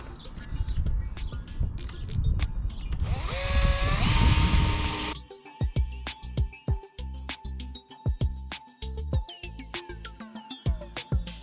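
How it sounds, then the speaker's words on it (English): A power drill with a 3mm bit bores screw holes around a roof vent opening on a Sprinter van conversion, a sustained whine for several seconds followed by shorter bursts and clicks, close and loud. "use a 3mm drill just to drill some holes for the screws."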